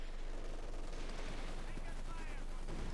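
MG42 machine gun fire in the Company of Heroes 2 strategy game, a dense continuous rattle of rapid shots amid battle noise, loud and unbroken throughout.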